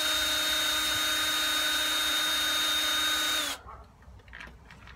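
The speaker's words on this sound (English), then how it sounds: "Electric drill is good for these." A power drill removing screws from a sand filter valve whines steadily at high speed for several seconds, then winds down and stops, leaving faint rustling and handling noises.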